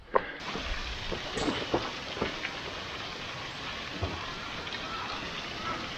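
Rushing water from a waterfall beside a rocky, pathless stretch of trail on Sinbulsan mountain: a continuous broadband hiss that stays steady throughout, with scattered sharp knocks and scuffs from nearby movement on the rocks.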